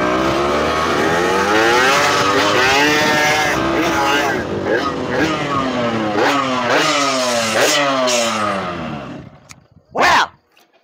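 An old motorbike engine revs loudly and close by, its pitch climbing and dropping in repeated sweeping surges before cutting out, followed by one brief sharp burst after a short pause.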